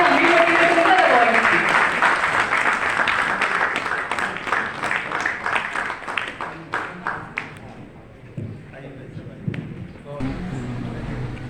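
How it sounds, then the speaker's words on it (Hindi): Loud, dense applause from an audience at an award ceremony, with clapping that thins into scattered claps toward the end and a voice speaking over it. "कृपया जोरदार तालियां बजाएं"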